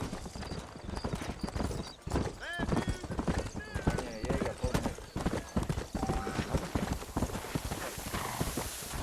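Horse hooves clip-clop in a steady riding rhythm in the video game Red Dead Redemption, with occasional neighs and spoken dialogue over the hoofbeats.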